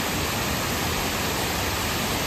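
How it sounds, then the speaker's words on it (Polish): Kuang Si waterfall in Laos, a constant broadband roar of falling water, close and steady with no pauses. "Jesteśmy znowu na wodospadzie Huangxi."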